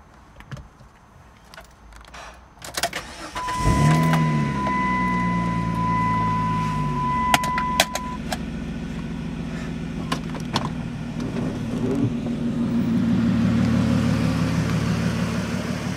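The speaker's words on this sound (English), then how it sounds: "Alright, James, I'm about to start the car." A car starting: a brief cranking whine catches into an engine that idles steadily, with a few clicks and clunks of controls, then the revs rise as the car begins to drive, close and with no talk.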